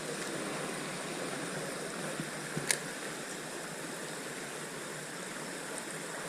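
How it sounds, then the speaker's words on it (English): A small creek flowing in an urban setting gives a steady, soft rushing wash of water throughout, with one faint brief tap partway through and no voices. "we're out here on a little creek"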